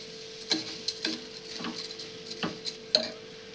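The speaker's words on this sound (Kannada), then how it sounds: "ಇದು ಒಗ್ಗರಣೆ ಒಳಗೆಲ್ಲ ಅದನ್ನು ಮಿಕ್ಸ್ ಮಾಡ್ಕೊಳ್ಳೋಣ್ರಿ" A spoon stirs rice into hot tempering in a pot for a simple pulao, making soft scrapes and a few sharp clinks against the metal, spread irregularly over a few seconds with a steady faint hum underneath.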